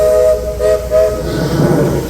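Sustained, overlapping horn tones blare together at Magic Kingdom, Florida, with a hissy, steamy quality, loud and close, like two whistles sounding at once.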